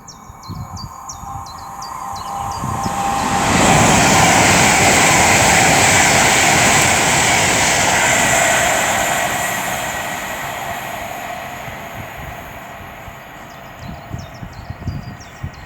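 An Avanti West Coast Class 390 Pendolino electric train passes through Tamworth station on the West Coast Main Line, a broad roaring rush that swells over several seconds and fades away, with birds chirping faintly around it.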